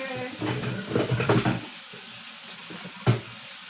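Cold water runs from a kitchen tap in uneven splashing bursts, loud for a moment and then trailing off, with one short splash near the end.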